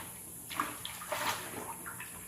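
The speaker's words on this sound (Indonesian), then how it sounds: "Kita mau cuci sayuran dulu" Vegetables washed under running water in a home kitchen, a steady splashing stream with brief sloshes and bumps as the produce is handled close by, no voices.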